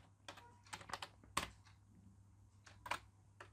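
Keys clatter on a computer keyboard during a Python coding lesson, a handful of scattered, crisp clicks with two sharper, louder strokes like the enter key being struck, close and clear with no talking.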